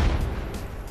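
A grenade explosion in the video game Apex Legends, played on Xbox: a loud, close, low boom opening at full force and rolling on as a dense rumble with no talk over it.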